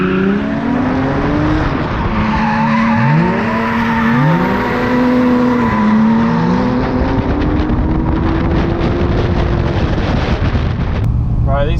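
A drift car on badly worn tyres skids round the Teesside track at a Driftcup round, its engine droning loud and sustained while the pitch wavers through slides, with wind buffeting the microphone and a driver talking over it.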